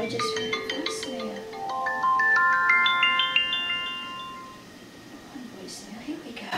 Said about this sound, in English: I just heard a voicemail.